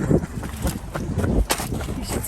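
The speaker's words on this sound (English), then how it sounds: "It is windy today." Gusty wind buffets an outdoor off-grid homestead as a storm rolls in, loud rumbling bursts against the microphone with uneven, choppy surges over a few seconds.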